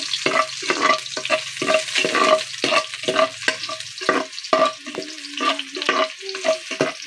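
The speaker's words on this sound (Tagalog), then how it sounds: "Mainit na ang mantika, gisahin ng sa bawang at sibuyas." Garlic and onion sautéing in hot oil in a pot while being stirred: steady crackling sizzle with repeated scraping clinks of the utensil, close and clear, with no talking.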